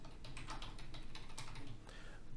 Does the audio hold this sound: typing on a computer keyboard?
yes